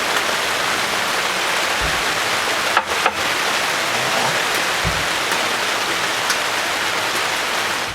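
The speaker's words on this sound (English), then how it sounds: "It's raining bad." Heavy rain pours steadily outdoors at night, a loud continuous hiss of drops with a few brief knocks and thuds in between and no talking.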